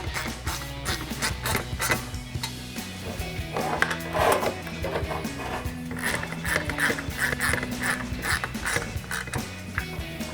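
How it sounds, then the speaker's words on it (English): A ratchet with a 10mm socket clicks in rapid bursts of pawl ticks while tightening bolts on a 2016-2019 Camaro SS intake install, close up, with short pauses and scraping handling noises between strokes, no voices. "Grab a ratchet, 10mm socket,"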